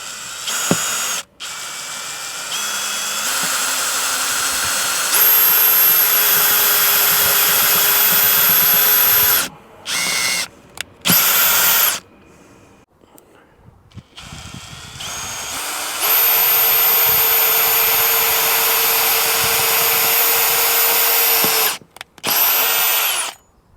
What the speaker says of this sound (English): I'm just going to pilot screw the start of the hole just to make sure it's able to bite